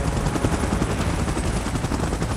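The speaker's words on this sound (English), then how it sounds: "Chopper in position." A helicopter in the PUBG Mobile video game thunders with dense, continuous rotor noise mixed with rapid gunfire, loud, close and unbroken throughout.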